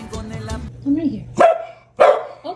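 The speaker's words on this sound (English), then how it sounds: "What are you barking at?" An old dog barking twice in loud, sharp single woofs close by, after a stretch of low whimpering sounds at the start.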